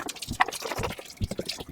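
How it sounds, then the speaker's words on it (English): Water splashes and trickles while a film-developing funnel is rinsed out, in short, close, uneven bursts of liquid sound. "I'll rinse out my funnel"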